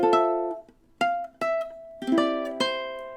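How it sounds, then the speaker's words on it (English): Ukulele strummed with incorrect fingering, giving a choppy sound: four separate strummed chords ring out, each cut short, with a gap of near silence after the first and no voices. "you'll hear the choppy sound that is associated with it"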